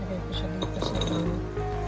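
Garlic cloves drop into a glass bowl with a few light clinks and taps, close by, while a person talks over the sound.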